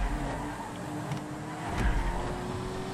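A car engine accelerates during a GTA Online race, a steady loud motor drone with rising pitch and a brief surge partway through, heard without speech.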